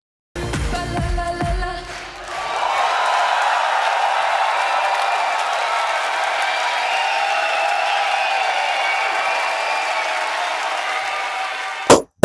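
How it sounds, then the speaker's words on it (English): A large crowd at a national final song contest in Germany roars and applauds after a live performance, a dense sustained wall of cheering that follows a few loud hits and ends abruptly. "the crowd went wild"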